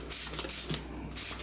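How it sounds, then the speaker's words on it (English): Cleaning spray hits the fins of an electrostatic air cleaner being restored, three short bright hissing bursts from a nearby trigger sprayer with brief pauses between them. "We'll give these a little spray."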